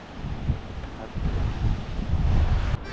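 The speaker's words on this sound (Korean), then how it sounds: "바람이 한 방향이 아니네 지금 엉망진창이네 오아직 바람 세대" Strong typhoon wind gusting from shifting directions along a shore at high tide roars and buffets the microphone in steady low surges, with a surf-like wash underneath and no talk.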